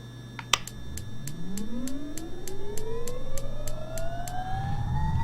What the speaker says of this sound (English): what I'm going to do is we're going to start the left engine